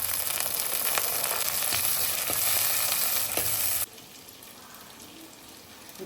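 Curry leaves and tomato fry in a hot pan with a loud, dense sizzle that drops abruptly to a much quieter crackle partway through.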